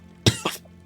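A voice imitates a cough: two short, close, harsh bursts in quick succession, the first louder than the second, alone against a quiet background.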